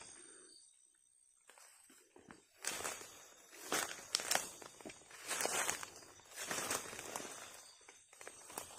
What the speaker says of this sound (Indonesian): Kayak ada suara langkah kaki tentara.